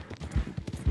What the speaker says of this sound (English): I literally just took this horse from a stagecoach